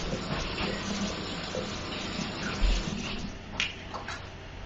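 Water running steadily from a kitchen tap as buttery hands are rinsed during a cooking class, a continuous moderate wash with a few splashy bursts near the end.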